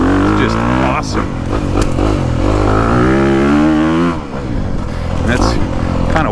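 Honda CRF250 dirt bike, a 2022 250cc motocross machine, ridden on a woods loop, its engine revving up and down loudly and close throughout, with a rider's voice talking over the roar.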